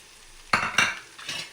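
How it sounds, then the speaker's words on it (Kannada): Crushed garlic hits hot oil for a tempering and sizzles, with two sharp close bursts followed by a softer third as it is stirred, alone without talk. "ಅದನ್ನು ಹಾಕ್ಕೊತೀನಿ. ಅದು ಗೋಲ್ಡನ್ ಕಲರ್ ಫ್ರೈ ಆಗಬೇಕು"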